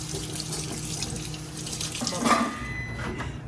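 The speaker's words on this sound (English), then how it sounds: "So always wash your stuff before you use it" Food, including peppers, washed under a running kitchen tap, with a continuous close rush of water splashing into the sink and a brief louder gush partway through, no talking.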